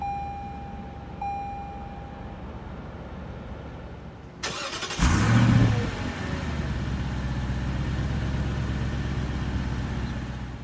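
A 2019 Lexus LX 570 fires up from a push-button start after a quiet moment, with a short cranking burst settling into a steady, low idle rumble that carries on to the end.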